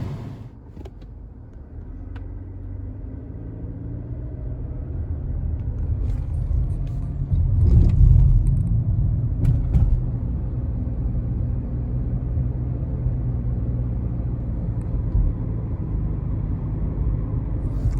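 A car driving on a road, with a continuous low rumble of engine and tire noise that swells slightly midway and holds steady throughout, with no talking.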